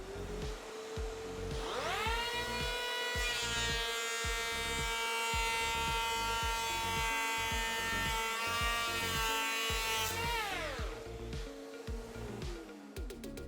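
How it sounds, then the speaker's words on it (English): A Makita 40V XGT cordless planer set to a 2mm cut spins up and shaves melamine board, a loud rising whine that holds steady for several seconds with a rhythmic chopping undertone, then winds down. "We'll set the planer to 2mm."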